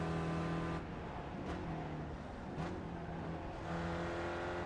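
A Spec Racer Ford race car at Lime Rock Park in iRacing holds a steady, loud engine drone from an in-car view, with slight dips in pitch as it shifts and eases off, and no talk.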